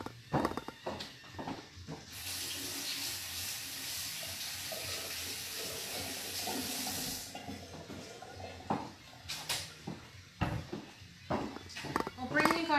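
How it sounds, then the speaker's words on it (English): Tap water runs into a sink for several seconds as hands are washed, a moderate steady splashing rush between quieter stretches of handling noises and brief talk. "I'm just going to wash my hands."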